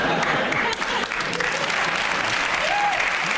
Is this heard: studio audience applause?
yes